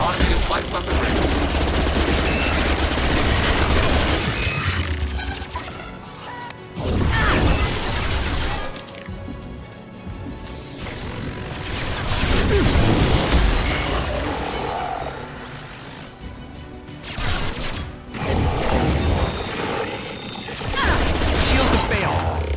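Automated light weapons firing at a range in a video game, with dense bursts of rapid gunfire, crashing impacts and mechanical roar in loud waves separated by brief lulls.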